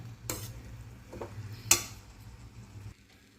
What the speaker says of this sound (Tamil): ஆஃப் பண்ணிவிட்டு இதை வந்து நல்லா கிளறி விட்டுக்கலாம்.